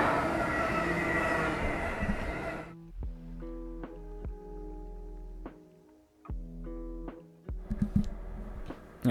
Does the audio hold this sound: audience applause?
no